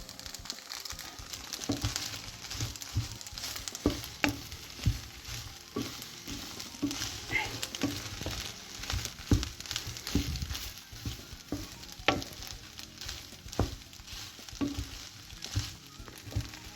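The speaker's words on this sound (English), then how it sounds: "let's get to stirring" Cheese noodles (Käsenudeln) being stirred in a frying pan, a steady sizzle and fry with repeated scraping strokes of the utensil against the pan, close and moderately loud, with no talking.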